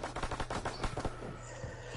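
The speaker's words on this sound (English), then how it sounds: "Loads of shooting around here, man." Rapid automatic gunfire in Call of Duty WW2 multiplayer, with dense overlapping bursts of shots up close that ease off toward the end. No talking.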